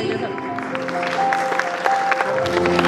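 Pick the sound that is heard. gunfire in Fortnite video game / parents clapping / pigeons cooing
parents clapping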